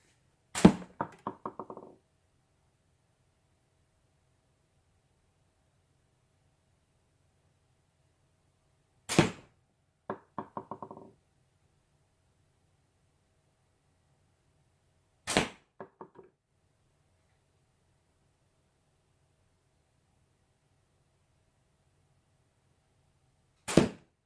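An arrow strikes a camouflage fabric target box with a sharp thwack, followed by a short rattling buzz; several separate hits are spaced apart by long silences.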